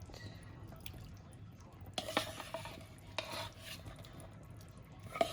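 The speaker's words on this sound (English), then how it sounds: "I'm gonna stir it and then let that cook for about 5 minutes" Seafood gumbo with large shrimp being stirred in a pot, quiet scraping and sloshing strokes in a few short bursts over a faint bubbling background.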